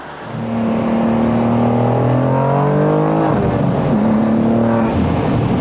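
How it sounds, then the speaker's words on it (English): A BMW G87 M2 engine and Fi exhaust drone heard from inside, rising in pitch as it accelerates, dropping at a gear change, then climbing again. "it is such a good feeling to be able to hear the exhaust system from the inside of the car"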